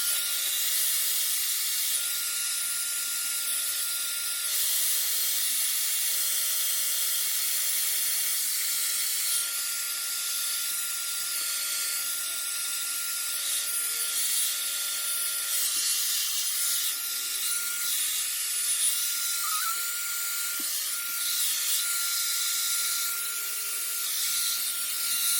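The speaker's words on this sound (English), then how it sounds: "I'm gonna take my blow dryer and I'm gonna blow dry on cool" A handheld blow dryer runs on its cool setting while pressed over a lace front wig with a comb. It makes a steady, close airy hiss with no breaks for the full length, and no one speaks.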